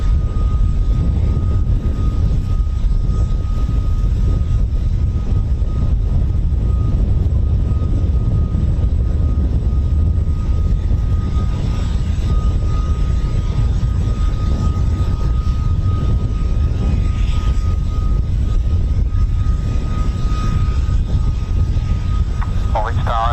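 A Chinook helicopter at the RAF Holbeach air weapons range gives a constant, loud low rumble with a thin steady whine above it, lasting the whole stretch while a voice talks over it.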